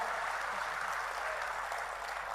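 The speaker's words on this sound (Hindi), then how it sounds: "एक बार जरा मन भर के ताली बजाकर इसका मन बढ़ाइए" Audience at a Hindi poetry gathering applauds, a continuous faint, distant wash of clapping held at an even level.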